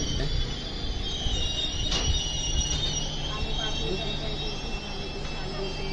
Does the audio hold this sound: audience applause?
no